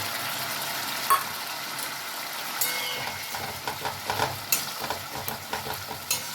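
Ginger, garlic and green chili paste with tomato sizzling in a pan for egg curry, a steady hiss at first, then a spatula scraping and stirring in quickening, repeated strokes close by, no voices.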